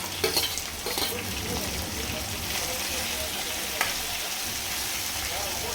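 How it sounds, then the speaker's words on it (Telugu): Green chillies frying in a pan for a stuffed ivy gourd pulusu, giving a steady close sizzle with a few sharp crackles and stirring scrapes near the start. "దీంట్లోనే కొద్ది పచ్చిమిరపకాయలు వేసుకుందాం"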